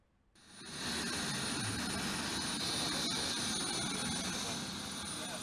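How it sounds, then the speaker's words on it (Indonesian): A helicopter water-bombing burning peatland during a dry-season fire, its engine and rotor roar rising fast to a loud, steady drone that holds throughout. "Petugas terus berupaya memadamkan lahan yang terbakar dengan pemadaman secara langsung atau waterbombing menggunakan helikopter"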